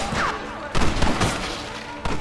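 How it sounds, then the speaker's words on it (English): Rapid gunfire from a Gatling gun in the Western video game Red Dead Redemption, a dense rattling barrage with heavy thuds running through the whole stretch, loud and close, with a couple of sharper bursts. "You man the Gatling gun"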